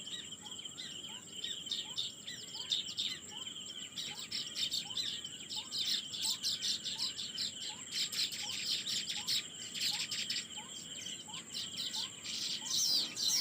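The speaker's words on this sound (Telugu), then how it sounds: "మీకు కూడా ప్రకృతి చేసే శబ్దాలు, పిచ్చుకలు చేసే శబ్దాలు ఇష్టమైనట్లయితే కామెంట్ చేయండి." Sparrows chirp around their nests in trees with quick, regularly repeated calls over a faint, continuous insect-like buzz, the birds fairly close and no voices heard.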